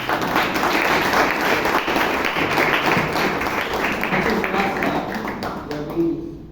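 An audience at a Toastmasters meeting in Bangalore breaks into sustained applause, dense steady clapping filling the room before tapering off at the end.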